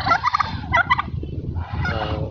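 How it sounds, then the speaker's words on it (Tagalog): Domestic geese call in a lively, honking burst of several overlapping cries, loud and close, with a brief pause before another honk. "So ito na yung mga gansa."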